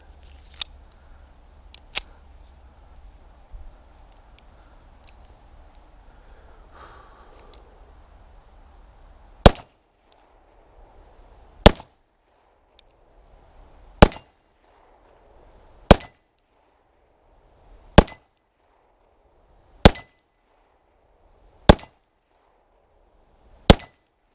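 A Walther P22 .22 pistol fires at 8-inch steel plates from 18 yards, giving sharp, isolated cracks spaced about two seconds apart, roughly eight strong shots following a few fainter pops earlier on.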